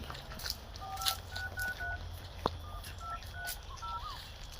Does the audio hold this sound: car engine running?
no